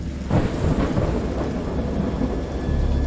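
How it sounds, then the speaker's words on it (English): Steady heavy rain hisses throughout in the video game Dagon, with low rolling thunder rumbling underneath, close and loud, with no voices. "It's very rainy."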